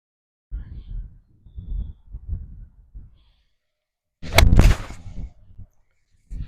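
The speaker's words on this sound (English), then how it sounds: "let's see if we can hit a couple shots here with that takeaway" A golf club strikes a ball on a practice shot, one loud, sharp crack that fades quickly, following several seconds of quieter, low rustling movement.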